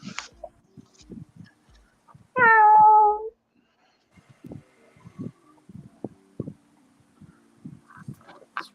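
A person imitates a cat's meow with one drawn-out, rising-and-falling call midway, loud against a quiet room, surrounded by soft scattered taps and clicks from crafting work on action figures.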